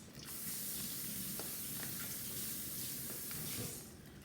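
Saffron risotto balls fry in oil in a pan over medium heat, giving a steady, soft hissing sizzle with faint pops and crackles throughout, fading slightly at the end.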